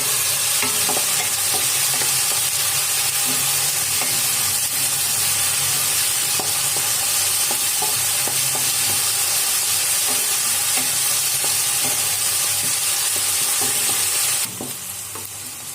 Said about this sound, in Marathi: छान गोल्डन कलर येईपर्यंत आपल्याला परतून घ्यायचे।